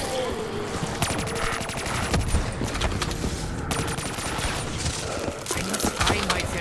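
Repeated bursts of video game gunfire crackle in quick clusters of shots, loud and close, continuing across the stretch with dense, rattling impacts.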